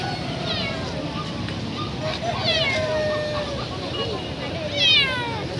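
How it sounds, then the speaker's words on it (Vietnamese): A cat at a busy Vietnamese animal market in Bắc Hà meows repeatedly, three drawn-out cries spaced a couple of seconds apart, over steady crowd murmur. "Con mèo này."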